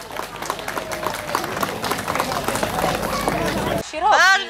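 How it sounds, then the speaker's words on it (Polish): Crowd at a Polish village harvest festival applauding tournament participants outdoors, a busy patter of clapping mixed with chatter and a voice, cut off near the end by a separate loud voice. "należą się ogromne brawa dla wszystkich uczestników tego"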